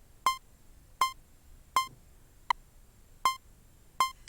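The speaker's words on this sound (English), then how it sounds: "Rocket and Francois, can you hear this really awful metronome?" An electronic metronome beeping, six short sharp tones spaced evenly about three-quarters of a second apart, clear and close against a quiet room.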